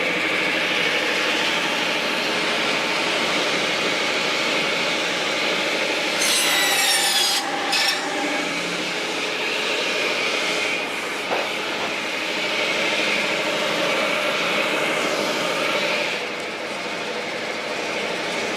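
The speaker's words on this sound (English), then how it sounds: "This is also a pretty big log to put on a little home-built firewood processor." A little home-built firewood processor works through a big log, giving a loud, steady grinding rasp that runs the whole time, with a few brief sharper squeals partway through and no voices.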